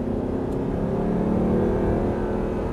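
Steady engine drone of a car accelerating on a race track, a continuous roar with a rising hum and no voices.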